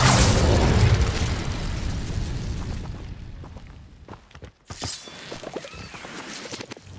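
Incendio fire spell bursting in Hogwarts Legacy: a loud, broad fiery roar opens the clip and slowly fades, then a sharp crackling burst follows near the end amid game effects.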